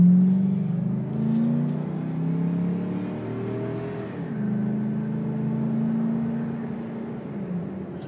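A 2002 Dodge Ram Quad 4x4 pickup drives along with a steady low engine drone and gentle rises in pitch as it gains speed, over constant road noise, with no talk.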